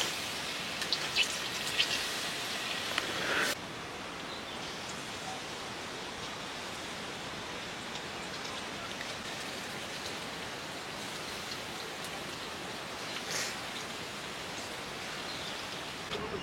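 Palm fritters (taler bora) deep-frying in hot oil, giving a steady, even hiss that runs throughout, a little louder and busier in the first few seconds, with no voices.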